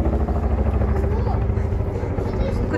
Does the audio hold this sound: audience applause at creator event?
no